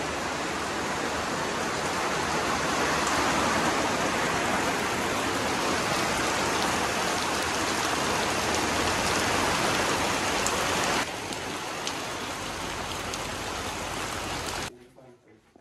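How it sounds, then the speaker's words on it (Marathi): Steady rain pours down in South Goa, a dense, even hiss that drops noticeably in intensity partway through and then cuts off near the end. "पावसाला सुरुवात झालेली आहे."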